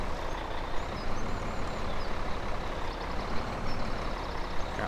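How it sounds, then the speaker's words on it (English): A truck reversing in the Giants Island video game gives a steady low engine drone with a faint rumble, moderately quiet and continuous throughout. "Apparently, I don't know how to back the truck up."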